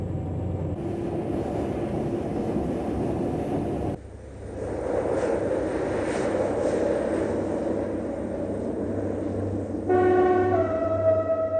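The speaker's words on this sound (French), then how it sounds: "le train passe la halte perdue de Claveyzol" An SNCF CC 72000 diesel locomotive passes a remote halt, a heavy rumbling train that swells then shifts in tone, ending with a loud sustained multi-tone horn blast near the close.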